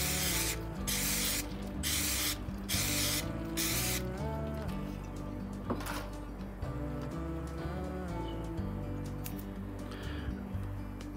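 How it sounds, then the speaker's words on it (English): Brake cleaner is sprayed onto a bush during a 1950 MG TD rebuild, several short loud aerosol bursts in quick succession followed by quieter dripping and rubbing sounds over a steady hum. "So just a bit of brake cleaner."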